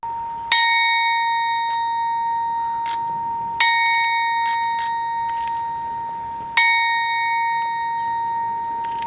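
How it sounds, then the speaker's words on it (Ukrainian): A bell strikes three times at steady intervals, each clear ringing tone lingering and slowly fading before the next, with no voices. "Традиційно щомісяця у меморіальному сквері лунає дзвін пам'яті"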